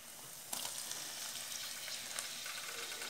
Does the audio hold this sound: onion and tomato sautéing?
yes